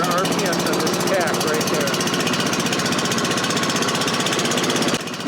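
A CoolVac27 insulation removal vacuum's engine revs up toward 3,600 RPM, producing a loud, steady mechanical drone with rapid engine pulsing that continues without a break for about five seconds.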